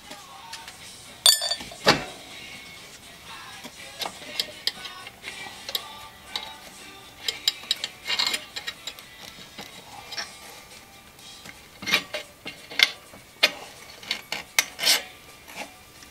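GearWrench ratchet wrench clicking during rear brake work on a Honda Foreman ATV, with irregular bursts of ticks, sharp metallic clinks and scraping up close, pausing between strokes.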